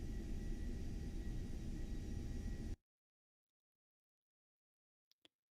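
A DA40 aircraft engine in the X-Plane 12 flight simulator gives a steady, loud broadband roar that cuts off abruptly partway through, followed by silence and two faint clicks.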